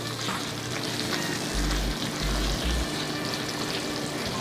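Shrimp sizzle and fry steadily in curry with coconut milk in a pan, a Jamaican-style curried shrimp cooking up close, with a few louder low bursts midway and no talking.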